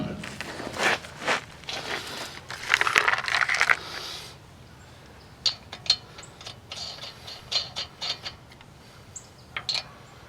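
A ratchet wrench snugs lug nuts onto a wheel of a 2004 Chevrolet Colorado pickup, making quick metallic clicks and clatters in short bursts with brief gaps, fairly quiet and close.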